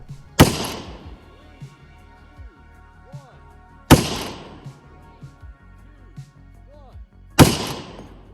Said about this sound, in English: today I am joined by my co-star, the V2 firing prototype of the AK-50.